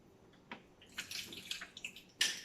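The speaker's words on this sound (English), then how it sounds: "throw a couple in this water here and rinse them off with fresh water" Tomatoes are rinsed in a basin of fresh water, giving faint, soft splashes and trickles in a few short bursts, close by and with no talk.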